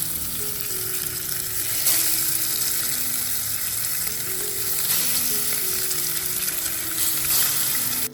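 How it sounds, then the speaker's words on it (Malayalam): Fish frying in a pan in a home kitchen, a steady loud sizzle and crackle lasting throughout, with faint clinks and no talk. "പിന്നെ അതേ മീൻ പൊരിക്കാനായിട്ട് ഇട്ടിട്ടുണ്ട് കേട്ടോ"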